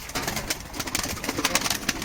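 Pigeons coo continuously in a soft, throaty chorus, close and steady throughout the short stretch, at a live pigeon auction.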